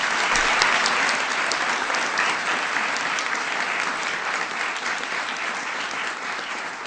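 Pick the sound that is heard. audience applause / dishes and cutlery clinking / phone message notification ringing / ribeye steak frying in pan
audience applause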